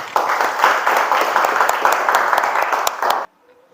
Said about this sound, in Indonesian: kasih aplaus buat kita